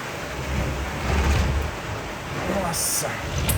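Heavy rain pours outside a window as a dense, steady roar with low rumbling swells, close and loud throughout, with no talk over it.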